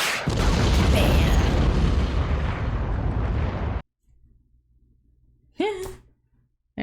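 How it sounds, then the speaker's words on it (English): A rocket launcher blast from a Black Widow film scene: a loud, dense roaring boom lasting several seconds that cuts off abruptly, then a quiet stretch and a sharp burst near the end. "Is that a rocket launcher? RPG?"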